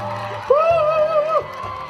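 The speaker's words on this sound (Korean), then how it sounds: "박수 한 번 주세요." Audience at a stage greeting for the Korean film Masquerade (Gwanghae) lets out a loud, sustained whoop of cheering over crowd murmur, rising suddenly and holding for about a second before easing back into general noise.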